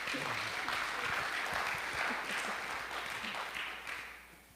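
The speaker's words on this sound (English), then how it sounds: "That's, you can clap for that." Audience applause at a church testimony service, a steady wash of clapping from a moderately distant crowd that fades out at the end.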